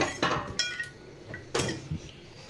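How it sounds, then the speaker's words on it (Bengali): Beaten egg being mixed in a bowl with bread for a quick Bengali snack, heard as a few sharp utensil clinks and scrapes against the dish, spaced irregularly, close and moderately loud with no talk. "দিয়ে সুন্দর করে মিশিয়ে নিচ্ছি, ভালো করে মিশিয়ে নিতে হবে।"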